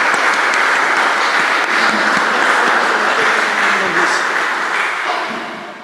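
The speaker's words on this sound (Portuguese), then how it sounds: "Peço uma salva de palmas ao Jorge à participação do Jorge." Sustained applause fills the room at a Mission Atlantic policy assembly, a steady even wash of clapping from the audience that tapers off toward the close.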